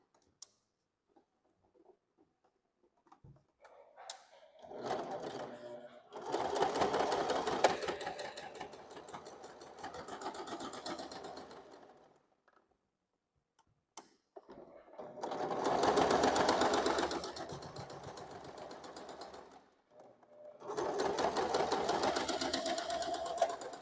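A sewing machine stitches a seam along the very edge of a headband in three separate bursts of rapid mechanical clatter, with quiet gaps and faint handling sounds between them.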